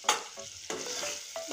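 Jackfruit and potato with turmeric and coriander powder stirred in a hot pan: three scraping stir strokes over a soft, continuous sizzle, fairly quiet and close, with no talking.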